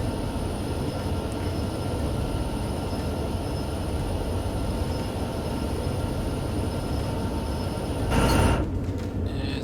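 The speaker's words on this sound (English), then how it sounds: "Basically what I'm working on right now is I am hauling a train of coal" Coal freight train of 53 cars, about 7,700 tons, rumbling steadily along the Sherman Hill line between Laramie and Cheyenne in Train Sim World 3, with a brief surge of wheel and track noise near the end, heard alone.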